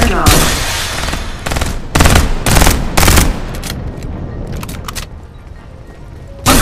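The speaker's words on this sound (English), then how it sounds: "Time for some artillery." Rapid bursts of gunfire and heavy artillery blasts from the shooter video game Farlight 84, loud and dense in repeated volleys with brief lulls between, a final burst at the end.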